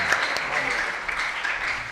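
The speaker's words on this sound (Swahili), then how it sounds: "Nous applaudissons au nom de Jésus Christ." Worshippers in a church applaud in a continuous, moderately loud patter of many hands, with voices carrying over the clapping.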